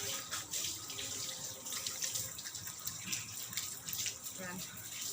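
Tap water runs steadily while a dog is bathed outdoors on a hot day, a continuous splashing wash with brief bursts, heard close with faint talk underneath.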